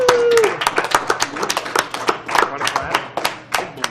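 Several sharp claps ring out in an uneven rhythm, close and fairly loud, while a person talks over them.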